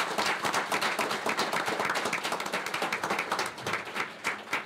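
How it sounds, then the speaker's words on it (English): Football champions, juniors and seniors, clap for themselves at a township committee work session: brisk, dense applause filling the room and tapering slightly toward the end. "Give yourselves a round of applause"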